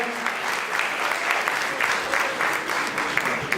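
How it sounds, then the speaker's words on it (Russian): Audience members clap at a university faculty celebration for Crimean Tatar and Oriental philology, a steady, moderately loud patter of many hands that continues evenly from start to finish. "Аплодисменты, друзья!"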